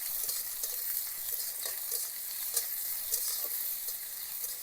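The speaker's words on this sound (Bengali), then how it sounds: "পেঁয়াজটাকে বেশ হালকা করে লালচে লালচে কালার করে ভেজে নেব।" Chopped onions fry in white oil in a pan, a steady soft sizzle with light stirring clicks throughout, fairly quiet and close, with no talking.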